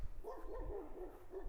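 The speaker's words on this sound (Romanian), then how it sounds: "câinii pare că vor să vină la mine." Sheepdogs at a mountain sheepfold in a deserted village bark in a faint, distant series of quick repeated barks over low outdoor rumble.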